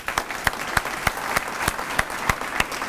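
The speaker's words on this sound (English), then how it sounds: "Let's give him another round of applause." Audience applause for a speaker at an evening leadership talk, a steady wash of clapping with regular louder hand claps standing out roughly every third of a second, moderately close and without speech.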